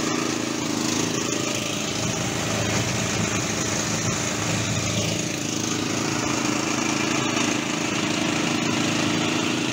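A Vari two-wheel tractor engine runs steadily in a constant, fairly loud buzzing drone with no change in rhythm throughout, close by and with no talk.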